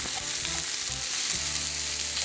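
Seitan chunks frying in a hot pan, a dense, even sizzle holding steady at close range with a faint stir mixed in, no talking.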